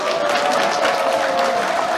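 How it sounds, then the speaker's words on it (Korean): Crowd applause for a young gukak prodigy, Minjeong, at an outdoor temple concert, a steady dense wash of clapping with some crowd murmur, loud and continuous throughout. "여러분들 귀여운 민정 양에게 다시 한번 박수"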